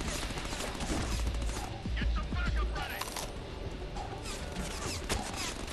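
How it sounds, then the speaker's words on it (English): Rapid gunfire in the Xbox One game Deadpool, a dense, continuous barrage of close shots with clattering and crashing layered over it and game sounds mixed in, loud throughout. "Stop shooting at me!"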